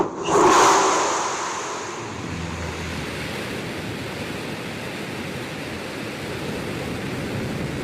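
Blue Origin New Shepard rocket engines ignite at launch in a sudden loud burst, then settle into a steady broad rumbling roar that continues unbroken to the end, with no voices.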